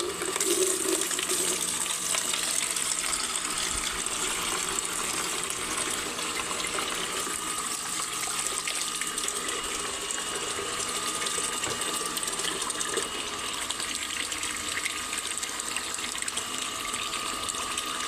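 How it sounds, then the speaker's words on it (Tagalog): Water being drawn to water garden plants, a steady broadband rush like a pump or running tap that holds at an even level for the whole stretch, with no talking. "Kuha tayo ng tubig, guys, para diligay ang ating tanim"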